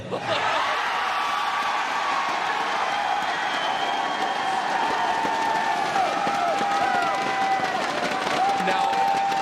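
The BlizzCon arena crowd cheers and applauds in a large hall, a dense, steady roar of voices and clapping with scattered whoops that holds throughout.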